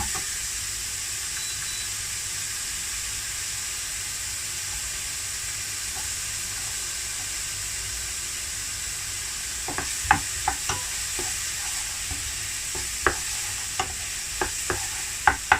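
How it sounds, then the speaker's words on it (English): Red onions sizzling on a half-cooked Thai stuffed omelette in a hot pan, a steady soft hiss of frying that turns busier in the last few seconds with quick spatula clicks and scrapes, no talk. "When it's kind of half cooked like this, I'm going to put my red onions in."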